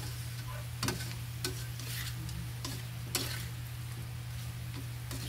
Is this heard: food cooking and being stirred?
yes